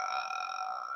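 A drawn-out, steady croaking burp-like sound from the ghost in The Grudge, with strong tonal harmonics. It sounds eerie and sustained and stays loud and unbroken for about a second, with no talk over it.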